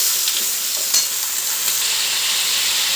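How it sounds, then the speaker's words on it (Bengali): Chicken pieces fry lightly in a pan with reddened onion and tomato for a low-oil green chilli chicken curry, giving a loud, steady, close sizzle with faint stirring ticks and no talking. "আমি মাংসটা একটু হালকা করে ভেজে নেব।"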